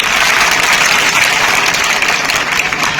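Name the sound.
school students applauding rangoli makers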